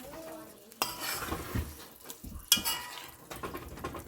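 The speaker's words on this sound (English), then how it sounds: "And I'm going to mix it up." Butter beans and saltfish, cooked Jamaican style, being stirred in a pot: a spoon scrapes and knocks through the thick mixture in several close, uneven bursts, with no talking.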